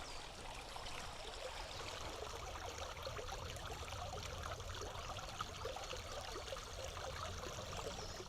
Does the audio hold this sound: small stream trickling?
yes